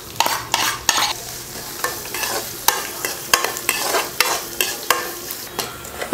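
Fennel seeds, ginger and garlic sauté in hot oil for masala bonda. A spatula scrapes the pan in quick, regular strokes, about two each second, over a steady close sizzle, and no one speaks.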